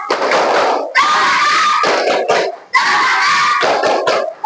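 Group of children do a rhythmic spirit clap with an Indonesian teacher, two loud bursts of clapping and shouting separated by brief pauses, close and energetic.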